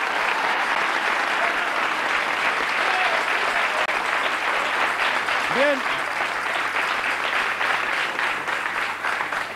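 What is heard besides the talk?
audience applause for Don Luis Martínez García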